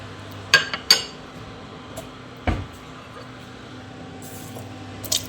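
A plate and spoon clink while dishes are handled and washed, with a few sharp separate clatters spread over quiet room tone.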